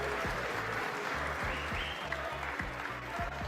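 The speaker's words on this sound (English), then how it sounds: "Eventually, to an ironic cheer." Snooker audience applause with an ironic cheer, a faint, steady patter of clapping held under a rhythmic low thumping throughout.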